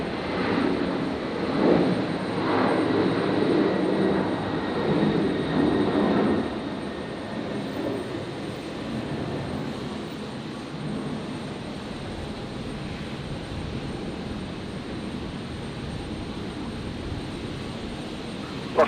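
A Virgin airliner takes off from Brisbane's runway 01 right on a stormy night, a broad roaring engine rumble that is loudest at first and then fades steadily as the jet climbs away.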